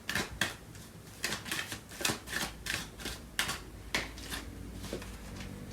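Tarot cards are shuffled and drawn by hand, giving soft, close papery riffles and taps in irregular bursts at a quiet level.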